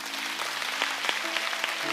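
A church congregation claps during a sermon, a steady rustling wash of many hands with a few sharper claps standing out, set against a faint sustained musical tone in the background.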